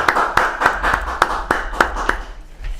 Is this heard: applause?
yes